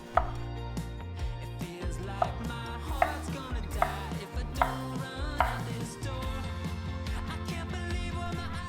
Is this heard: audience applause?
no